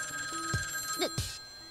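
A wall-mounted rotary telephone rings in bursts, a bright bell tone with sustained metallic harmonics, fairly close, broken by a few short thuds and a brief sliding sound, no voices.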